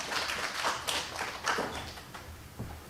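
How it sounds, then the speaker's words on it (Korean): A church congregation claps after a sermon with steady, moderately loud applause from many hands, a few sharper individual claps standing out, and no talking over it. "오늘은 박수가 많이 나오네요"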